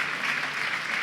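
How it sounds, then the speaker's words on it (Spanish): Dense crowd applause from a church congregation praising the Lord, a continuous wash of many hands clapping at a moderate, steady level with no individual claps standing out. "Cántale un aplauso al Señor"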